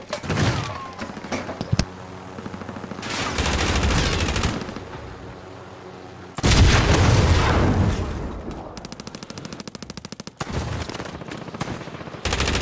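Bursts of gunfire in the video game Call of Duty: Modern Warfare, sharp single shots and long machine-gun rattles with booms between quieter gaps, loud and close amid in-game voice callouts.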